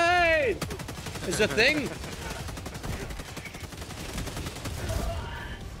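Rapid bursts of automatic weapon fire rattle through a Helldivers 2 firefight, dense repeated shots in close succession under a short excited spoken exclamation, with sharp tonal whines at the start.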